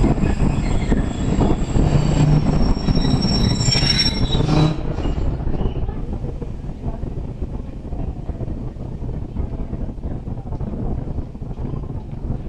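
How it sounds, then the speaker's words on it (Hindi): The 11 Up Hazara Express, led by an HPU 20 locomotive, pulls into Gujar Khan railway station in Pakistan. Loud wheel squeal and a heavy rolling rumble come first, then ease into a lower steady clatter, with wind buffeting the microphone. "11 अप हज़ारा एक्सप्रेस अप्रोच कर रही है गुजर खान रेलवे स्टेशन पे"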